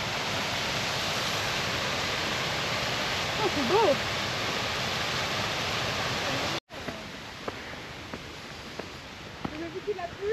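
Steady broadband rush of a river and waterfall flowing close by, continuous through the clip, with people talking briefly over it and a short break near the middle.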